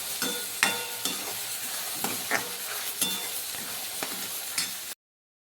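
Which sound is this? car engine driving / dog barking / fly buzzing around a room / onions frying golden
onions frying golden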